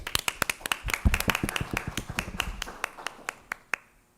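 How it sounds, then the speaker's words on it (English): Scattered hand claps ring out close by at a school board meeting, a round of applause for the outgoing chair, starting dense and thinning to a few last isolated claps before falling quiet. "Can we give her a round of applause, please?"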